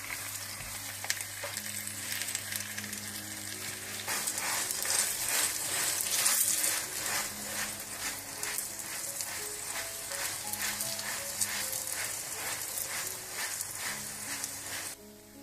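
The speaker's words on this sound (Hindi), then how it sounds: "ऊपर आप थोड़ा सा मक्खन डाल दें और इसको पलट दें और बिल्कुल हल्की आंच पर आपने इसको पकाना है" Potato paratha sizzles steadily in butter on a pan over low heat, a continuous close frying crackle with soft spatters that swell slightly midway and then hold even.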